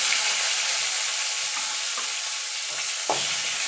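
A tomato goes into hot oil with chilies and five-spice for a drumstick lentil dal, producing a loud continuous sizzle with a few spoon scrapes and a sharper stir clack near the end, close up, with no talking.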